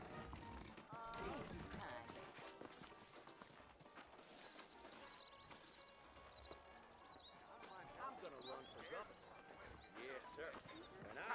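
Horses in the video game Red Dead Redemption, hooves clip-clopping with occasional neighs and snorts, moderately close beneath a voice talking.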